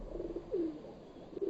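Soft, low pigeon coos from birds kept indoors at home, several gentle rolling calls spread across a quiet stretch, fairly near but faint, with no speech.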